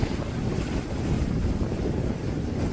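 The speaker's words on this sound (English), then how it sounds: "So we've got about 15 knots of wind, gusting 19." Wind roars steadily across a sailboat at sea off the north coast of Borneo, 15 knots gusting 19 on the beam, with one reef in the main, mixed with rushing water as the boat moves along at about 7 knots.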